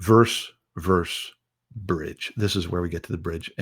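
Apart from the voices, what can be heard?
No everyday noises stand out.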